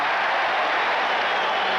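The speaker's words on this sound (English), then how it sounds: "A cheer went up when he was able to hit that one" Crowd at a 1981 NBA Finals basketball game, Houston at Boston, cheering and applauding a made free throw; a steady, dense wash of cheers and clapping fills the whole stretch without a break.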